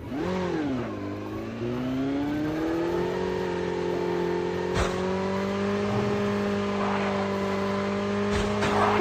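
A motorbike engine in a squad battle video game revs loudly and continuously, its pitch rising then holding as a steady high whine, with no talk.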